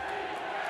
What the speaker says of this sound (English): Here comes that hometown crowd again.